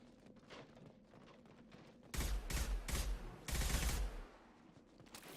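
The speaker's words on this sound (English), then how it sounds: "I can blow up crates." Crates shot and blown up in Mass Effect 2: a rapid gunfire volley over faint background, then two loud bursts of blasts with deep booms, each lasting about a second, close and punchy.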